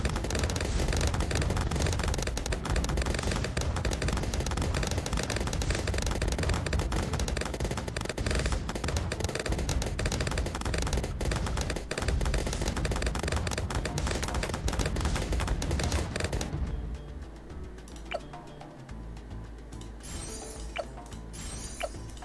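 Cannon towers firing bombs in the Bloons TD 6 video game, a dense loud barrage of rapid overlapping pops and bursts for most of the clip, then thinning to sparse scattered hits near the end.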